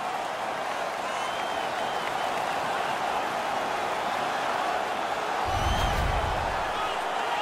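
A home arena crowd roars in NHL 19 on PS4 during a Vegas Golden Knights versus Los Angeles Kings preseason game after a fight ends; a loud, continuous wash of crowd noise with a deep thump near the end.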